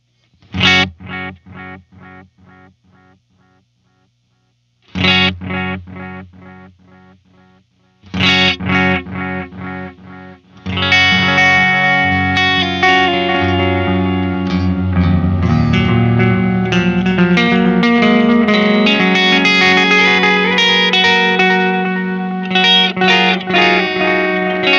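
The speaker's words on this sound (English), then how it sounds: "So you can hear up at the higher end, the maximum amount of echo" Distorted electric guitar chords through a Boss Waza DM-2W delay pedal ring out with repeating echoes trailing each note, the delayed repeats growing denser and louder as the playing continues.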